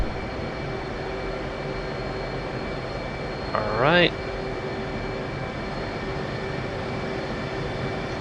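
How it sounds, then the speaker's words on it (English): Military jets take off in a combat flight simulator game set over Georgia, a steady, even engine roar running throughout, broken by one short chirping tone and a brief spoken word. "Looks like they are taking off."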